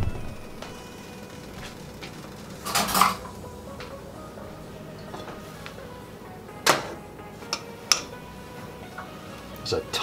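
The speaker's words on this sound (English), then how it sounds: "I'm going to stir this rice real quick, make sure it doesn't stick to the pan." Rice being stirred in a pan gives a few sharp metallic scrapes and clinks of a utensil against the cookware, scattered and moderately close over a quiet kitchen background.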